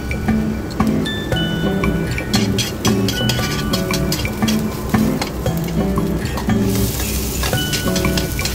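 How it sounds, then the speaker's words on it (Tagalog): Ginger frying in a pan for pinangat na salmon head, a loud close sizzle with frequent metallic clinks and scrapes of a spatula against the pan, irregular stirring rhythm, no talking. "So i-fry na natin yung ating ginger"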